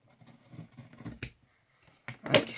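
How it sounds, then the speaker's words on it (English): Scissors trim the fabric edges of a handmade needle book, with a few close, quiet snips and light rustles separated by brief pauses. "I'm just going to trim up these edges"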